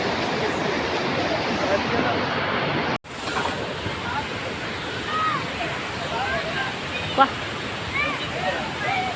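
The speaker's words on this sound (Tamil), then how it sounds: "அருவி ஊற்றுக்கு பாருங்கள்" A steady, dense roar of a waterfall fills the scene, broken by a brief dropout, with faint voices and a few chirps over it.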